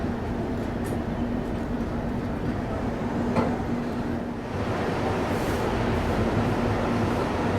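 The Chennai Howrah Mail passenger train rolls into Vizianagaram station in Andhra Pradesh, a loud steady rumble of coach noise and station ambience heard from inside a 2nd AC coach, with faint voices in the background.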